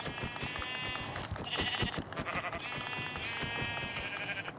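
Minecraft sheep bleat repeatedly in wavering, drawn-out cries over a busy, clicky background, fairly quiet overall.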